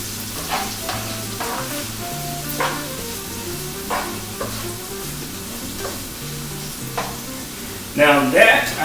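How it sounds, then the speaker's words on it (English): Vegetables sizzle steadily in a hot pan for beef tips with gravy, with periodic scraping stirs and a louder burst of frying near the end, close up and without talk. "I'll go ahead and start to stir in these vegetables"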